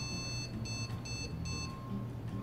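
Motherboard beeper sounding repeated short high-pitched beeps in a steady pattern during a graphics card test, with a constant electronic tone and low hum beneath, no voices.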